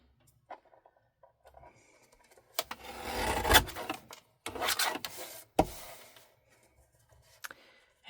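Cardstock being trimmed for handmade cards: a few dry scraping and slicing strokes of a paper trimmer, close and fairly quiet, with brief taps and rustles between the cuts.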